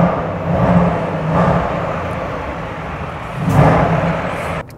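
A 2015 Range Rover Evoque Sport SVR's engine and exhaust rumble close and loud, swelling in a few rising revving surges that fall back between them, with no talking.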